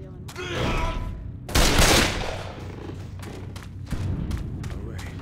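9mm pistol fire in the Left 4 Dead 2 Dead Center campaign on Expert: a loud volley of shots amid game noise and low rumble, followed by further scattered reports, with faint voices underneath.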